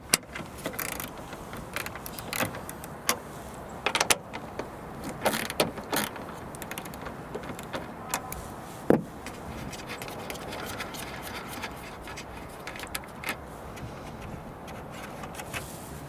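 A 10mm long socket turning and backing out the tail light nuts on a 2020–2025 Nissan Sentra, heard as soft ratcheting and scattered sharp metallic clicks over a low, steady background, close up and without talk.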